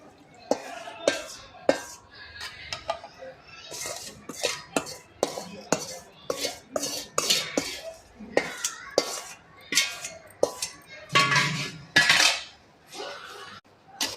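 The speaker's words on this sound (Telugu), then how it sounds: "బాగా మిక్స్ చేసుకోవాలి. ఆయిల్ అంతా పట్టాలి ముక్కలకి." A spoon clinks and scrapes repeatedly against a metal bowl while thick ridge gourd chutney is stirred with tempering oil, in quick irregular strokes, close up with no talking.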